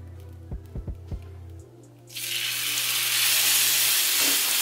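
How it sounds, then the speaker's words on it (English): Salmon goes skin side down into a hot buttered pan and a loud, bright sizzle erupts and holds steady to the end, after a few soft handling thumps at the start. "So I'm gonna go ahead and throw the salmon in here skin side down."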